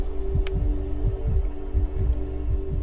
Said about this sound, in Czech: to bušení srdce je zbytečný